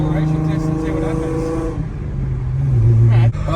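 A Holden VY Calais drift car with a swapped L67 engine, cold on its first drive, droning steadily from inside the cabin, its engine pitch shifting and rising toward the end.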